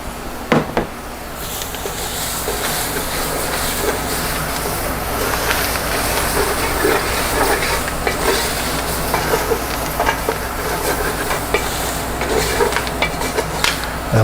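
Vegetables sizzle and crackle in a hot pot of chicken sausage étouffée, a steady loud frying hiss with stirring scrapes and clatter running throughout.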